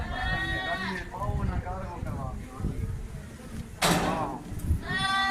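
Bleating goats or sheep in a livestock setting, several short wavering calls with harmonics scattered across the clip, fairly close, mixed with background voices and handling noise.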